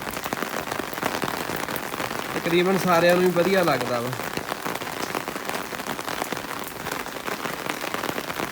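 Steady rain patters throughout, with a brief tonal sound rising above it midway while someone speaks over the downpour.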